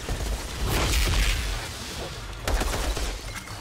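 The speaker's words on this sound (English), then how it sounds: "I just start shooting for the hell of it." Gunfire in the Outriders video game, rapid bursts of shots and booming impacts close by, with a brief lull before another volley.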